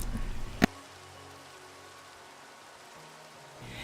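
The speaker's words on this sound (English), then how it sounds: "And it's raining." Rain falls steadily in the Minecraft video game as a soft, even hiss that continues throughout, following a brief sharp click near the start.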